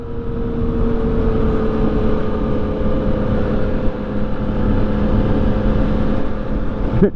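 A Yamaha FZ-09 motorcycle with its stock exhaust cruises at steady speed, giving a continuous, moderately loud engine drone with a constant pitch and rushing wind noise, without speech.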